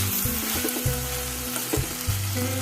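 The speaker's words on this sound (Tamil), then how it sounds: "இதை போட்டுட்டு நல்லா வதக்கி விட்டுடுவோம்" Onion, tomato and coriander sauté in a hot pan for a carrot chutney, with a loud, continuous sizzle and the scraping of a spatula stirring the mix, and no voices.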